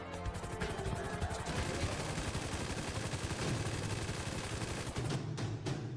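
Rapid bursts of gunfire ring out loud and close, a dense rattling fusillade like machine-gun fire that continues almost without pause, then a few final separate shots.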